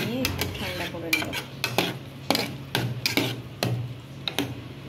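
Chhena being stirred in a pan, repeated clanking scrapes of a metal spoon against the pan at an uneven rhythm over a low sizzle, close and fairly loud, no talking.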